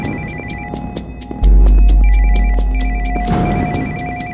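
A mobile phone rings loudly and close, a repeating electronic ringtone pattern of rapid pulsed tones with a low throbbing vibration underneath.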